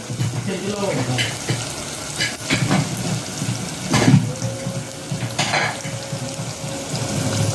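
A medium onion browning in hot tempering oil in a pan, a steady sizzle with scattered stirring scrapes and clatter, plus a brief thin whistle-like tone near the end.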